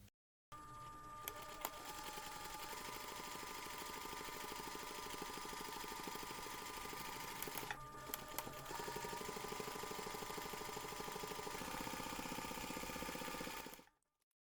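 A sewing machine stitching in a fast, even mechanical rhythm, running continuously for long stretches with a brief pause midway, fairly quiet and close.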